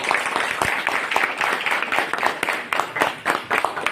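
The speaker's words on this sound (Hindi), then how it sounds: "आप सबके लिए सबसे पहले जोरदार तालियां बजाएं।" A crowd at an opening event applauds steadily and loudly, a continuous wash of many hands clapping that lasts throughout without pause.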